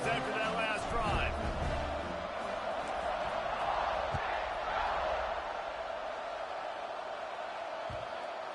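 Stadium crowd roaring and cheering in the College Football 26 video game, a broad steady wash of noise filling the whole clip at a consistent level, with a few distant thuds and shouts and a commentator's voice briefly over it.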